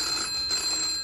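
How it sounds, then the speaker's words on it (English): A telephone rings steadily in a motel reception scene from a TV soap, a bright continuous trill heard faintly on its own. "that phone's never stopped ringing"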